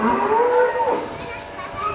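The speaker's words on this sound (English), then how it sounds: "Yeah, it did say moo, didn't it?" A dairy cow at a milking farm gives a single long, drawn-out moo that rises and fades, close and loud, followed by faint background voices.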